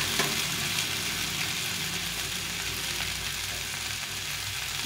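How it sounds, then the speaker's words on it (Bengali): Chopped tomato fries with masala in a pan, giving a dense, steady sizzle up close that continues without pause and with no voices. "এখন এই টমেটোটা দিয়ে দিব। একটা বড় টমেটো নিয়েছি কেটে।"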